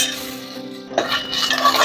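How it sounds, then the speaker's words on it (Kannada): Onions browning in a pot for mutton sambar make a soft sizzle, with a spoon scraping and clinking against the metal in a brief close burst of stirring. "ಈರುಳ್ಳಿನ ಕೆಂಪಾಗಿ ಹುರ್ಕೋಬೇಕು."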